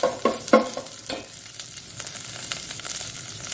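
Onions and slit green chilies fry in ghee with a soft steady sizzle, broken early by a few clinks and scrapes of stirring; no voices.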